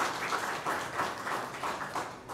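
Applause from a congregation at a Sunday church mass for a birthday, a moderate, somewhat distant round of clapping with a loose, pulsing rhythm that carries on steadily.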